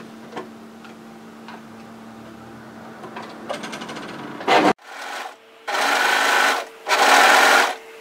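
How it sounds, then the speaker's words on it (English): Overlocker sewing machine stitching a sleeve hem on a knit tee, with a few soft ticks before running in short bursts, then two loud sustained stitching runs close by, alone with no talk. "What I'm going to do is overlock and flat stitch."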